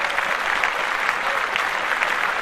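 Brief, steady applause from a small studio audience, a dense wash of clapping that stays even and fairly loud throughout.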